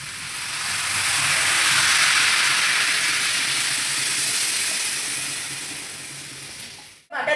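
Water poured into a hot pan of chicken chana masala sets off a loud, steady broad sizzle and hiss that holds for about seven seconds before cutting off abruptly.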